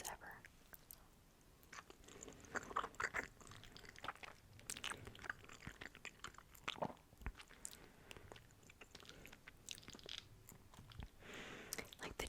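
Annie's mac and cheese is eaten close to the mic in a whispered ASMR setting, with soft, wet chewing and small squishy bites mixed with quiet whispering.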